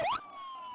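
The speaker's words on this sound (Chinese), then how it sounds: "警车一路鸣笛，紧急开道，" A police car siren wails briefly while clearing the road in an emergency, one short rising sweep that drops back to a thin, fading tone.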